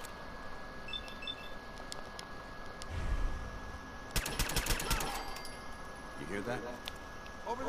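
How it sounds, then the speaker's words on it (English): Rapid burst of gunfire in Fallout 4 during a fight with Mirelurks, a dense crackling volley in the middle over steady game ambience and music. "I just shot it"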